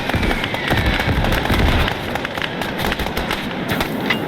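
In the World War I battlefield game Gates of Hell Ostfront, a flare goes off amid a crackling, popping barrage of sharp bursts over a continuous rumble, dense and loud, with faint voices in the background.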